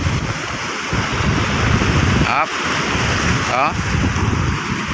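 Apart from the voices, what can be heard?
sea waves splashing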